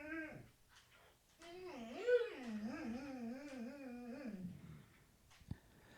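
A dog whimpers and yips at close range, a short whine followed by a long, wavering, sing-song whimper lasting a few seconds, ending in a brief sharp yip in a quiet room.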